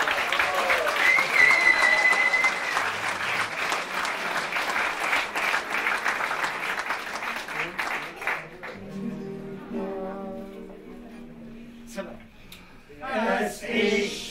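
An audience claps loudly and steadily through a carnival show at the Willisau Fasnacht, the sustained applause thinning and fading partway through, with scattered voices and cheers rising near the end.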